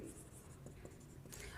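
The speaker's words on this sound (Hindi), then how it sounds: "अगेन लिखेंगे" Chalk or marker writing on a board during a math lecture, faint scratchy strokes in short bursts at a quiet level, with a soft voice in the background.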